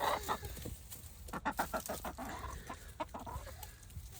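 Brahma chickens clucking in a steady run of short, scattered calls, moderately close, with soft background noise and no talk.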